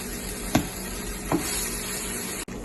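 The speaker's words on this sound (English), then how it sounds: "So we're just gonna wait a little bit more for this to fry." Blueberry pancake frying in a pan, a soft continuous sizzle with a couple of light clicks, close and steady, with no voices.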